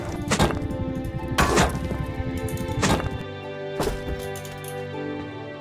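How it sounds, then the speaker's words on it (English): Four hard wooden smashes strike a breakable box in a video game, arriving at uneven intervals over a steady in-game music bed, each hit a loud, sharp thwack with a brief crunching tail. "Help me destroy this box"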